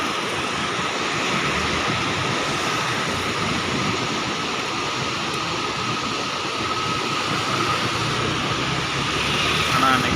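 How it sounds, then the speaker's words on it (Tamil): Released water pours through Mettur Dam in a loud, steady, broadband roar like heavy surf, unbroken from start to finish. "இந்த தண்ணீரோட சத்தம் மனசுக்கு நிம்மதியாக இருக்குது"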